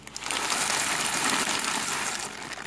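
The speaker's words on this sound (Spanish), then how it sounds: "Aquí yo ya tengo el agua hirviendo." A pot of water boiling on a stove before pasta goes in, giving a steady, close rushing and bubbling hiss that holds evenly throughout.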